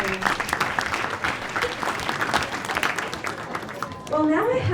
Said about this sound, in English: Another big round of applause for Abuna Thomas